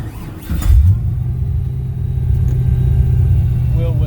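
Supercharged 1971 Pontiac Firebird pro touring car with a big Whipple blower, forged internals and six-speed gearbox, blipped in neutral: a loud, close burst of revving rising sharply near the start, then a heavy steady engine rumble that stays strong to the end.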